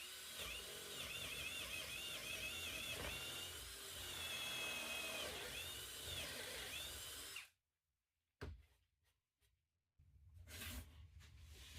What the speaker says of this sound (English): 1/2 inch drill.